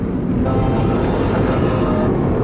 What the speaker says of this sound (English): Just taking the helicopter out today.